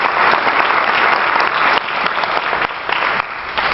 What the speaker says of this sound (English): another round of applause for Cindy as she comes on stage and meets Alex